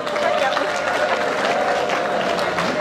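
Guests at a wedding celebration in Kinshasa break into dense, continuous clapping that fills the room at a steady level for the full few seconds.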